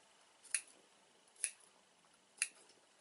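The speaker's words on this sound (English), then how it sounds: "just snip up to the stitch line but not into it." Scissors make three crisp, evenly spaced snips through leather-look fabric close to a stitch line, each cut short and near in an otherwise quiet room.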